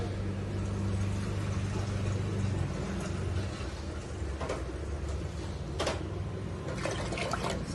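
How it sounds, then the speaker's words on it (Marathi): Water is poured into a cooking pan in a home kitchen while a festival dish is being made. It is a steady, broad splashing rush that runs the whole time at moderate loudness, with no voices. "तर याच्यामध्ये आम्ही पाणी टाकून घेतो."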